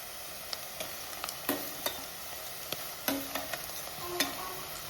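Tomatoes sauté in oil under a low steady sizzle, with light intermittent taps and scrapes of a spoon against the pan at irregular intervals.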